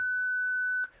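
A single steady electronic beep from OrCam assistive glasses during face learning, a clear pure tone held for most of a second, alone and close.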